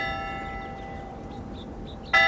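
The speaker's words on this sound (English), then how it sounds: "The bell is late again." A church bell hums with a sustained ringing tone that fades, then is struck again sharply near the end.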